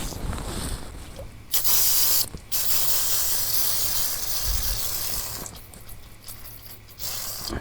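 Brake cleaner sprays from an aerosol can in several loud, close hissing bursts, some long and some short, with quieter pauses in between.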